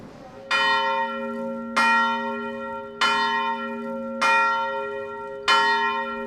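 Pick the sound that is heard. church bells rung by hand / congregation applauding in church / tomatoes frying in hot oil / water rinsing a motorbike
church bells rung by hand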